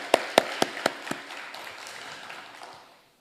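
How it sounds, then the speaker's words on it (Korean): A handful of distinct, loud claps at a church worship service, spaced in a quick rhythm for about a second, then fading into faint scattered clapping and room noise. "우리 중창팀에게도 감사의 박수 하겠습니다"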